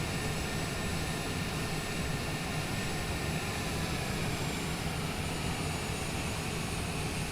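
A small airplane taxis along taxiway Delta toward the terminal at Bend, Oregon airport, its engine a steady, constant drone throughout with no voices.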